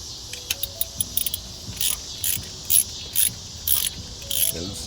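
A ratchet tightening a spark plug on a 1997 Dodge Ram 5.2L gives short runs of quiet clicks, then several sharper bursts of ratcheting at a steady pace, close up in a quiet garage.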